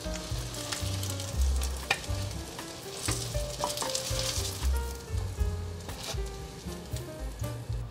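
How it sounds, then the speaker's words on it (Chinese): Taiwanese tofu skin frying in a pan, its sides browned one after another, giving a continuous close sizzle with crackling pops and occasional scrapes of stirring, no voices. "侧面也给它煎一下，这一面煎好，再来换另外一面。"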